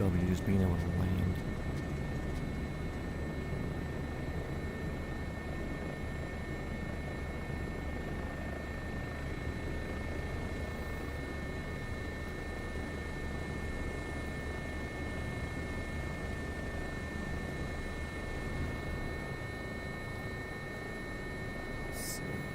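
A helicopter in a video game settles in to land, its rotor and engine forming a loud, steady broadband drone that barely changes throughout, with faint murmured talk underneath.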